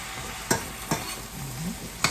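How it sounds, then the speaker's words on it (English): Spoon scrapes and knocks through jerk chickpeas in a pan three times, loosened with a little chickpea liquid, over a soft steady sizzle, close and fairly quiet. "And just stir it up."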